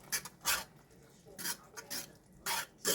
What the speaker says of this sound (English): I'm just going to mix all of that round.